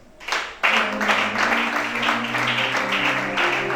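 A church congregation at a worship service in Gabon bursts into applause after a brief pause, a loud, sustained wash of clapping with a low tone underneath.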